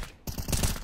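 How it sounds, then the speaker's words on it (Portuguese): Suppressed Colt rifle fire in a Counter-Strike match on Mirage, a burst of muffled shots in quick succession, dense and fairly loud amid game ambience. "É muito tiro de Colt silenciada, velho"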